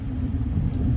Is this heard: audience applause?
no